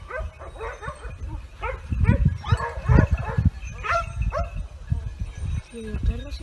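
Hunting dogs during a hunt with hounds on a cliff in Spain give repeated yelping barks and whimpers at middle distance, mixed with shouting voices throughout.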